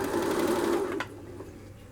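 A sewing machine whirs steadily and loudly as its foot pedal is pressed, then slows and drops to a quieter hum partway through, with no voices.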